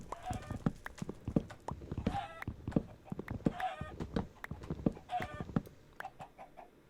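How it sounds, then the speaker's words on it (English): Minecraft chicken clucks and hurt squawks, repeated several times in short bursts alongside soft game footsteps and clip-clop-like tapping, moderately quiet, with a voice talking at times. "What is killing a chicken up there?"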